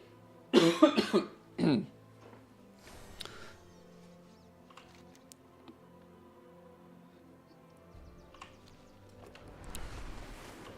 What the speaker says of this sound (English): I keep coughing into my mic